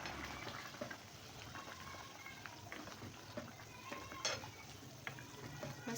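Beef karahi gosht with green chillies and ground masala frying in a karahi, a low steady sizzle broken by occasional stirring scrapes and light clinks.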